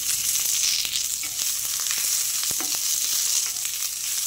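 Sliced onion frying in oil on a hot griddle over medium heat, a constant bright sizzle close by, with a few soft scrapes and stirs now and then and no one talking.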